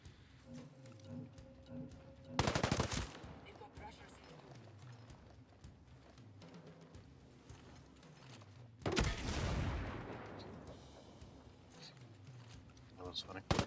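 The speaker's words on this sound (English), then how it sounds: "But that machine gun's been doing its job well." Machine gun fire in Ghost Recon Breakpoint comes in two loud, sharp bursts several seconds apart, over quieter game ambience and a voice.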